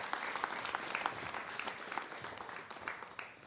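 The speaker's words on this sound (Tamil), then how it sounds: "பேராசிரியர் கனிமொழி அவர்களை உங்கள் உற்சாகமான கைத்தட்டல் ஓசையோடு அழைக்கிறோம்." Lively audience clapping welcoming a professor onto the stage at a Tamil New Year debate event, a continuous, moderately distant patter of many hands with a few sharper claps.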